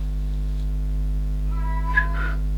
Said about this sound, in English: I would appreciate it if the cat would stop screaming